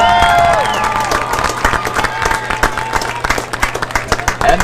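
Crowd applause with scattered cheers at a high school football game between SM West Vikings and SM North Indians, honoring senior football players; loud, dense clapping fills the clip with a fading announcer tone at the start.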